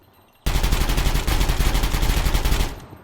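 Sustained automatic gunfire from an M4 carbine in the video game Gunsmith Simulator, a loud continuous burst of rapid shots lasting over two seconds before cutting off abruptly.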